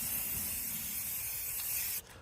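A spray can lays down clear coat in one continuous hissing burst over a spray-painted planets and stars artwork. The spray is close and steady, then cuts off abruptly near the end.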